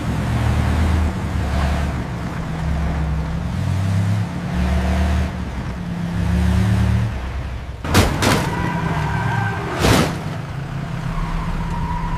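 A car engine rumbles and revs as the vehicle pulls away, loud and close, broken by two sharp cracks like gunshots near the end.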